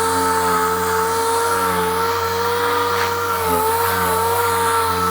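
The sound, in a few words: 80 grit orbital sander stripping paint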